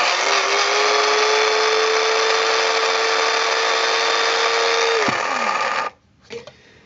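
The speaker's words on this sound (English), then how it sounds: "they're grinding, and I'm going to turn it one more time with a knife" An electric mixie grinder runs steadily on walnuts for cookie dough, making a loud, continuous high motor whine for about five seconds before it cuts off, followed by a brief faint rattle.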